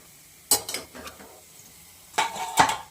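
Fenugreek greens with two red chillies and asafoetida are stirred in a pan, giving two clusters of scraping, clinking strokes against the metal over a soft sizzle.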